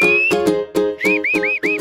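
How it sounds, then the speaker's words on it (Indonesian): A person whistles to call cows in a rural setting, giving a rapid series of loud, close, sharp whistle notes, some rising and falling in short arcs. "sapi-sapi di sini bisa dipanggil dengan cara bersiul loh"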